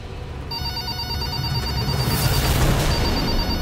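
A telephone rings with a repeating electronic trill, fairly loud and close, over a low steady background hum.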